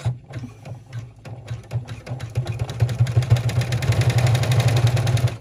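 An embroidery machine stitches a 3D bag in the hoop, starting with sparse clicks and picking up into a fast, steady rhythmic chatter of needle strokes close by.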